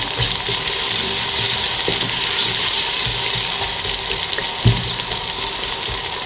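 Sliced onion frying in hot oil for a beef bong curry, a dense, loud, continuous sizzle with a few faint clicks of stirring and no talking.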